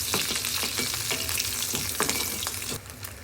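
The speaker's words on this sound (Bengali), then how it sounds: "এই জন্যে আমি চুলায় কিছুটা তেল গরম করে এতে এই শুটকিগুলো ভালো করে ভেজে নেব।" Dried fish (shutki) frying in hot oil on a stove, with a loud crackling sizzle and repeated stirring scrapes that ease off slightly toward the end.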